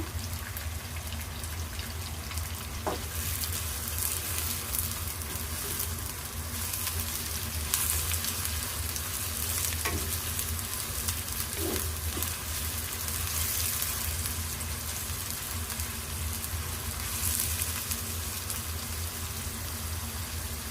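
Garam masala, cinnamon, cloves and bay leaves fry in hot oil in a pan for chicken kosha, a steady close sizzle with crackling and occasional faint clinks.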